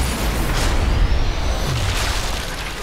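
Deep booming gunfire and blasts during a port bombing mission in Sniper Elite 4, loud rumbling bursts that roll and overlap with a sustained low roar, no talking.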